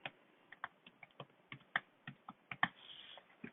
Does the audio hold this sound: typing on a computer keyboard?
yes